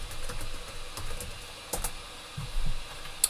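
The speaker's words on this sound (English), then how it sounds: "So I'm typing in the error that came up when we did our deploy through the terminal." Quick clusters of keystrokes on a computer keyboard, close and fairly soft, with short pauses between bursts as text is entered into a search bar.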